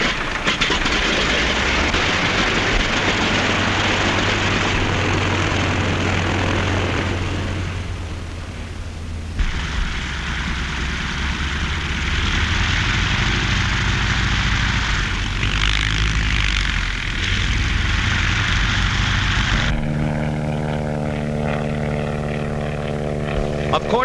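A 1935 propeller airplane engine runs loudly and continuously, a droning roar that shifts in pitch and intensity, rising into a steadier, harmonic whine toward the end.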